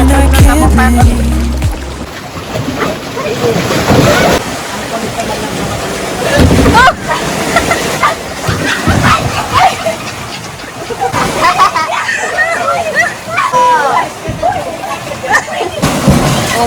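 Ocean waves wash ashore at a beach in Dasol, a loud, broad surging wash rising and falling throughout, with people talking over it.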